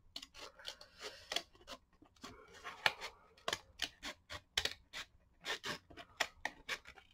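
Scissors cut out an extra paper layer, giving a series of close, crisp snips in an irregular rhythm with brief rustling between cuts and no talk.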